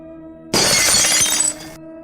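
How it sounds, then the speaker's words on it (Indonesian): A plate smashes in a kitchen, a single loud, sudden burst of breaking ceramic with scattering fragments lasting about a second before cutting off, with no voices. "Tiba-tiba terdengar bunyi piring pecah dari dapur"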